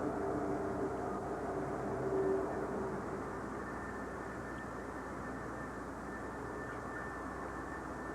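A steady low engine drone from a passing airplane over an Okanagan beach hums for several seconds, distant and continuous with no talking.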